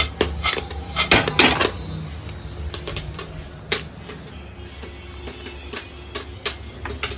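Metal pots and vessels clatter and clink in a home kitchen during turkey cooking, with rapid irregular knocks and scrapes that are loudest early on and then thin out into sparser taps.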